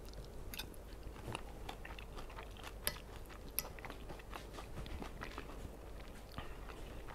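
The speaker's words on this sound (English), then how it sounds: "The tortilla crisps. Get a little bit soggy in the eggs, but you still get a little bit of that crunch also." Close-up, fairly quiet chewing of migas made with eggs and crunchy tortilla crisps, with soft wet mastication punctuated by scattered crisp crunches and a couple of sharper bites.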